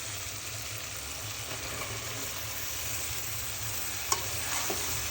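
Okra frying with prawns in a pan, a steady close sizzle with faint stirring and one brief clink near the end.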